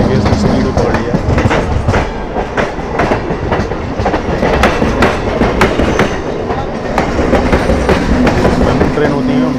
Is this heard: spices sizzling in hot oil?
no